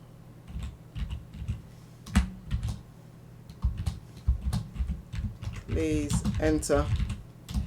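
Someone types Python code on a computer keyboard in a series of soft clicking keystrokes in short bursts, some faint, with a voice speaking briefly over the typing.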